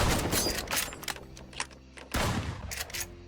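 Rapid video game gunfire ending in a headshot kill, a burst of sharp shots that cuts out, then resumes with another loud volley, some mechanical clicks between.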